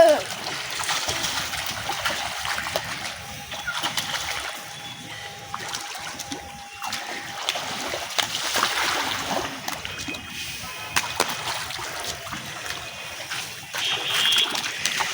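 Water splashes and dribbles continuously as a child bathes on a rooftop, close and fairly loud, with voices talking over the splashing throughout.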